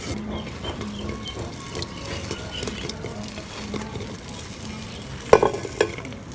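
Fried gulab jamun being mixed into sugar syrup, with soft wet stirring and gentle bubbling close by, a steady low patter broken by a couple of sharper clinks of utensil against the pot near the end.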